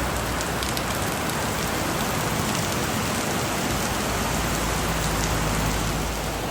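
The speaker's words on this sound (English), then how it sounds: "it's lashing rain" Heavy rain lashes down steadily on a mountainside in Thailand, a dense, constant hiss with no gaps from start to finish and no voices.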